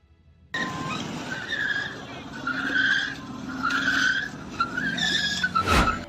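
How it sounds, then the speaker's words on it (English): Car tires screech and skid in a series of drawn-out squeals on a road during a crash, loud and close over engine noise, ending in a sharp burst. "its tires screeching in a desperate attempt to regain balance"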